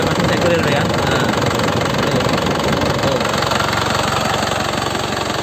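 A 2009 Isuzu Panther LM turbo diesel engine idles with a steady, rhythmic knocking rumble, loud and close throughout.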